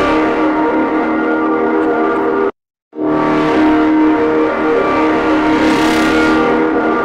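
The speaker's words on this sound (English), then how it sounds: "You can hear the feedback kicking in when we go near BB." Audio feedback loop generated inside the B.S FFTexture plugin, a dense, sustained harmonic drone with strong stacked tones that cuts out briefly in the middle, then returns and swells brighter toward the end.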